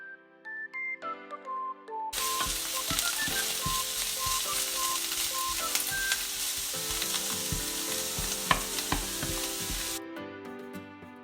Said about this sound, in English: In a large hot pan, add a few spoons of olive oil and pan-fry the artichokes until slightly golden brown.